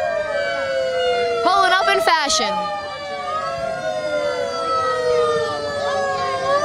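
Police car sirens from Jersey City Police and State Troopers vehicles at a St. Patrick's Day parade in Bayonne, wailing loudly and steadily throughout with a brief burst of horn-like yelps, while a person talks over them.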